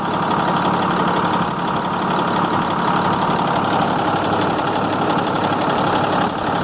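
A Cummins 6.7 diesel engine in a Ford F750 truck with an intermittent shut-off fault runs at a steady idle. Its loud, even rumble and clatter are close by and continuous throughout, with no voices.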